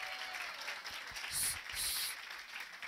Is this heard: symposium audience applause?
yes